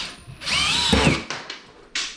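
A power drill whines loudly as it drives screws into a drywall patch over a light fixture hole, with one long spin-up followed by several short bursts, close and alone without talk.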